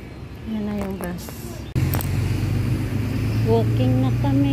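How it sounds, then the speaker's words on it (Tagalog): A city bus in Singapore pulls up with a heavy engine rumble that swells suddenly and stays loud and close, while people talk over it. "Yan na yung bus."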